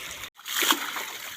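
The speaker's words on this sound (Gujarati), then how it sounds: "બધા એક ડૂબકી ખાઈને બહાર નીકળી ગયા. પાણી ભગે એવું થઈ ગયું" People bathing duck under the water together, and a brief splash and slosh of water rises after a short silence. It is close and short, with faint voice sounds around it.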